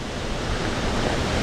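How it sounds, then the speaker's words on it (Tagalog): Steady broadband roar of a tall waterfall at Binaan Falls in Buldon, a continuous rushing wash of falling water heard close and loud, with no breaks in the sound. "Ang taas ng waterfalls."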